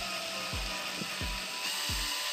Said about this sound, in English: you can see me drilling it